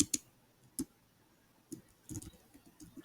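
Someone types a PowerShell command on a computer keyboard, tapping a few sharp, quiet keys in short irregular clusters with pauses between them, close by in a quiet room.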